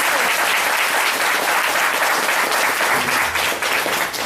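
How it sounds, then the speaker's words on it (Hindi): Audience at a spiritual discourse breaking into sustained applause, a dense, loud wash of clapping filling the whole stretch without pause. "यस, ताली बजाओ"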